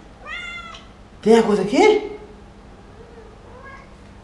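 A house cat meows several times, a thin high call followed by louder, closer drawn-out meows, with someone speaking to it nearby.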